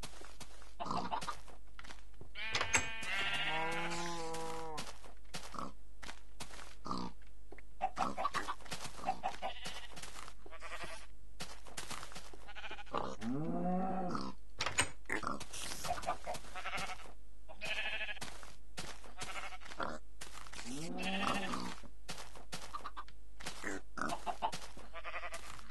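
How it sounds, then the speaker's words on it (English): Pigs in the video game Minecraft grunt and squeal in scattered bursts over a steady background drone, several short nasal calls spaced across the stretch, fairly clear and close. "You come, pigs. This is your home now."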